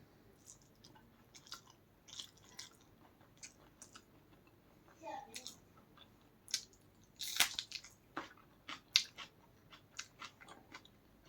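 Someone chewing a meal of meat curry with plain rice, close-up with quiet, irregular wet bites and squishes, plus faint background noise and occasional speech.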